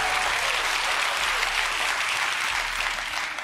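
A live studio audience claps steadily and loudly, a dense broadband wash of applause that holds throughout and eases slightly at the end, with no talking over it.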